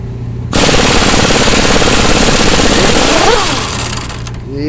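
An impact wrench on a trailer zaps a nut off a bolt during leaf spring and shackle work. Its loud, continuous rapid hammering rattle runs for about four seconds and then winds down at the end.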